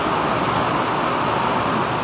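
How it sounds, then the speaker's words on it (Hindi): Heavy rain falls outside at night in a dense, steady hiss of drops, loud and close and continuous, with no talk. "बारिश आ रही है एकदम एक नंबर"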